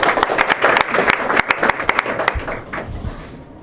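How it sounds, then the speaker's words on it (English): A crowd of Ogoni youth claps for themselves, loud rapid hand claps with sharp individual slaps up front, thinning and fading out over the final second. "Clap for yourself"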